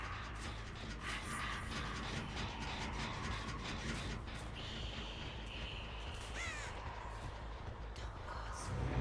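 A crow caws repeatedly in the video game Dead by Daylight, the harsh calls sitting over a dense, rumbling game ambience at moderate volume, with no voices.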